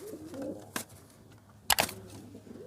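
A Kashk pigeon gives soft, low coos close by, broken by a couple of sharp clicks or flutters, with a quiet room in the background and no speech.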